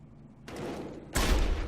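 Gunfire in the video game Deus Ex: Human Revolution, a burst of shots that swells into a louder, dense volley near the end, with no talking.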